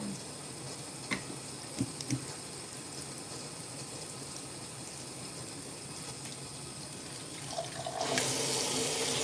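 Water runs steadily from a tap into a kitchen sink during dishwashing, a faint continuous hiss with a few small clinks, growing fuller and louder near the end as the flow strengthens.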